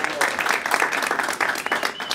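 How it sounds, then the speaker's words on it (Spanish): A lecture audience gives welcoming applause, a brief burst of steady clapping filling the room at close range. "les pido un aplauso de bienvenida"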